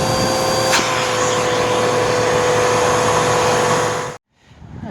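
A waterlogged Bissell Powerforce Helix upright vacuum cleaner, a curbside find, runs with a loud, steady motor whine and airflow roar for about four seconds, then cuts off abruptly, leaving a faint fading hum.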